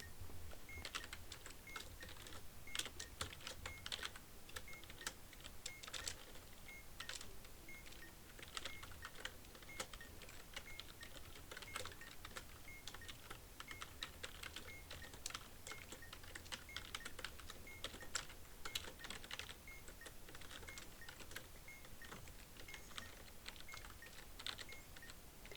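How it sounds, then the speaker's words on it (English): Soft, quick keystrokes clatter steadily on a computer keyboard throughout, quiet and close, with no voice over them. "So we're just going to type this again."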